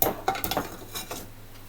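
Food is dropped into a cooking pot with a few quick clanks and knocks, a sharp hit at the start followed by softer clinks that fade to quiet.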